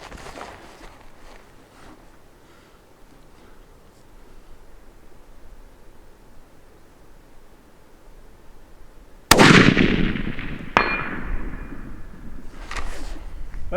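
A 6.5 PRC rifle firing at a steel target, with quiet outdoor ambience broken by one loud sharp crack and a second fainter report or ring shortly after, then decaying.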